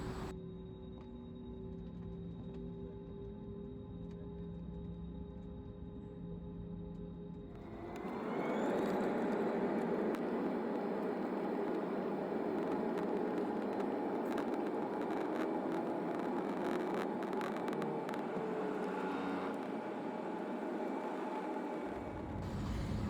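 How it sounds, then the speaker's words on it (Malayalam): A passenger jet taking off at night, heard from inside the cabin: a steady low hum gives way after about eight seconds to a loud, sustained engine roar that holds to the end. "അങ്ങനെ ഫ്ലൈറ്റ് ടേക്ക് ഓഫ് ചെയ്തു"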